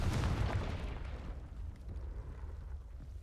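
A Confringo spell explodes in the Hogwarts Legacy video game, a loud booming burst at the start that rumbles and fades into a lingering low roar.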